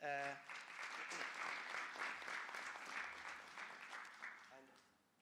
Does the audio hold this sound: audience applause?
yes